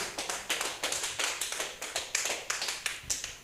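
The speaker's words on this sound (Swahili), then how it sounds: "Pigia Yesu makofi mazuri." A church congregation claps in a steady, rhythmic beat during a Swahili-language worship service, with sharp, closely spaced hand claps ringing out loud and continuous without speech.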